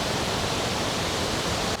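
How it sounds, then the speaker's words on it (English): Violent white water roars at a Tennessee waterfall, a loud, steady, close rush of churning water filling the whole moment with no voices. "But look at this white water. Holy cow. It is just violent in there."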